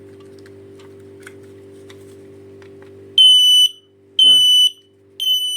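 Loud, piercing beeps from a Hikvision HikFire smoke detector alarm, three long pulses with short gaps, following a brief word of speech and a faint ticking background.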